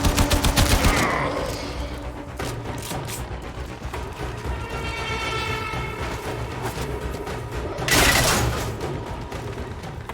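Gunfire crackles in Warframe, with dense bursts at the start and again near the end, a rattling stretch in between, and a steady mechanical hum underneath.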